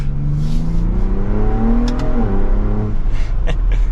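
A 2023 Ford Bronco Raptor engine revs up and down continuously, its loud, low growl rising in pitch and falling back, with no voices.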